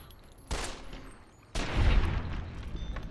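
Two sharp, loud gunshots about a second apart in Fallout New Vegas, fired at a giant ant, with the second followed by a longer rumbling echo and lingering game ambience.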